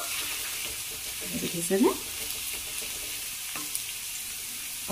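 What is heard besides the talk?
potato bhaji frying in oil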